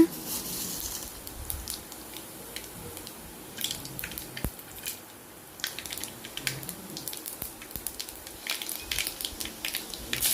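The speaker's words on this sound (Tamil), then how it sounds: "எண்ணெய் காஞ்சதும் கடுகு சீரகம் வெந்தயம் நசுக்குன பூண்டு இதெல்லாம் சேர்த்திக்கலாங்க" Mustard seeds, cumin, fenugreek and crushed garlic fry in hot oil for a spinach thokku, making faint, scattered crackles and pops over a low, steady sizzle.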